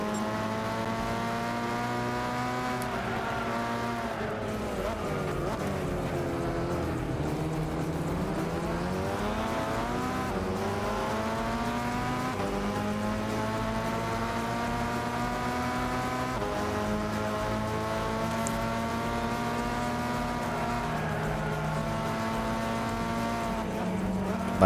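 Race car engine in Gran Turismo 6, driving and overtaking around the Spoon corner at Suzuka. It holds a steady loud drone, dips as it slows into the corner around the middle, then rises again through upshifts, with no voices.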